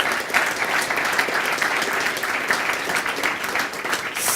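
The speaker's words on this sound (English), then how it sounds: "Please give them all a round of applause" Audience applause for a core developer panel at a conference session: steady, dense clapping from a seated crowd, fairly loud and unbroken for several seconds with no voices over it.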